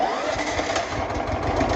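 A 13hp Rock Machinery wood chipper engine, key-started with choke on, cranks and catches, then runs with a rough, loud rumble throughout.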